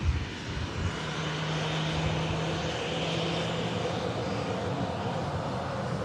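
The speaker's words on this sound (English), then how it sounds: "This Ryanair arriving in, just vacating on the rapid exit taxiway from Mercia." A Ryanair airliner rolls off the runway onto a rapid exit taxiway at Manchester Airport, its engines giving a steady distant roar with a faint low whine rising and fading, no voices.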